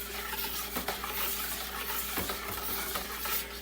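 A homemade laundry soap mixture of dissolving powders is stirred in a pot, giving close, soft scraping and swishing with a few sharper clinks against the bottom. No one speaks.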